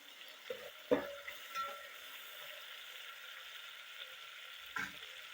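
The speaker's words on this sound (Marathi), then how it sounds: "त्याला चांगले परतून घेणं लागते टमाटेची" Tomatoes saute in a pan over a gas flame. A low, even sizzle runs throughout, with a few sharp spoon knocks and scrapes early on and another near the end.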